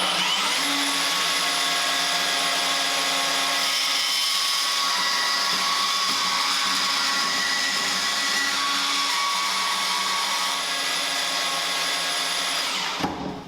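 A SWAG Offroad portable band saw starts up and runs as a loud, steady, high whine lasting about thirteen seconds, then cuts off abruptly.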